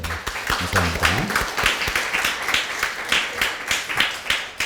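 A church congregation claps together in a steady, fairly loud round of applause, the individual claps distinct, while a voice speaks briefly at the start.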